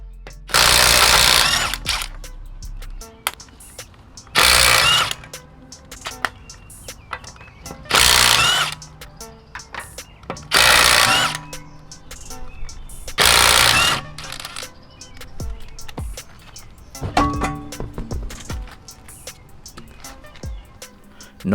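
An impact wrench loosens lug nuts on the rear wheel of a 2005-2008 Audi A4 B7, sounding in five loud rattling bursts of about two seconds each with quieter clinks and handling between them.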